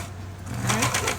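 A serger runs a side seam on stretchy fabric for a doll's raglan shirt, a fast mechanical whirr that grows into a rapid, rhythmic stitching chatter, close and alone.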